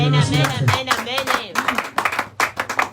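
A church congregation claps to acclaim God during a sermon, a run of sharp, fairly loud hand claps building over the last half under a preacher's continuing voice.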